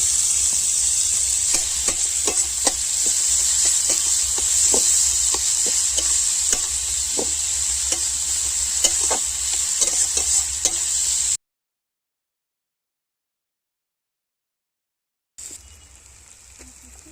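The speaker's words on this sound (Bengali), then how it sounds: "ওই কড়াইতে তেল দিয়ে আর পেঁয়াজটা দিয়ে দিচ্ছি" Onions frying in oil in a kadai, loud steady sizzling with repeated clicks of a stirring spoon for about eleven seconds, a sudden silence, then a fainter sizzle returning.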